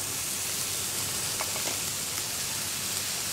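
Snake gourd pieces frying in hot coconut oil in a pan, a steady soft sizzle with faint crackles throughout, no voices.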